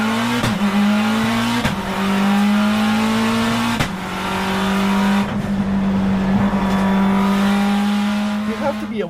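An Infiniti Q50 engine pulls hard and loud through the gears, its rising drone cut by several sharp upshift breaks, with a voice talking over the engine.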